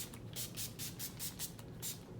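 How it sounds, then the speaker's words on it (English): NYX makeup setting spray mists onto a face in about seven quick, soft hissing pumps, close and fairly quiet with no talking. "I'm gonna take some NYX and I'm just gonna spray"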